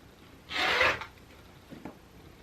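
A blade slices through pillowcase fabric in one short, close rasping stroke lasting about half a second, followed by a couple of faint scuffs in a quiet room.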